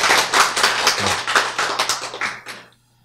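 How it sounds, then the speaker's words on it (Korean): Audience clapping at a lecture, a dense burst of applause from many hands, steady and fairly close, that thins out and fades away after about two and a half seconds. "여러분 박수를 쳤어요"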